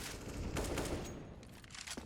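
Gunfire bursts in CS:GO during a professional BIG vs Entropiq esports match, a dense rattling volley of shots lasting about two seconds at moderate level, with no talk.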